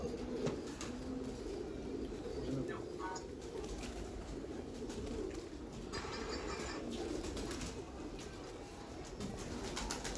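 Soft, low cooing from a teddy pigeon sounds faintly and close by against a quiet background with some light rustling, and no talking is heard.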